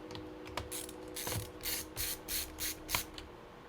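A screwdriver turns out screws from the bottom of an Asus G750JX laptop, giving a quiet, close series of rhythmic ratcheting clicks and soft grinding bursts, about eight in a row.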